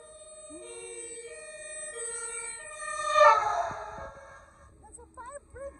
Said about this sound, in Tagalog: That's a fire brigade.